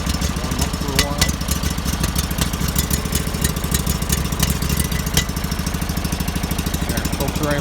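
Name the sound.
small gasoline engine idling while warming up with choke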